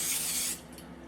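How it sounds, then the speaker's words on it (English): Cooking spray hisses onto portobello mushrooms in a steady, close burst lasting about half a second, then stops, leaving only faint background. "So I'm going to spray"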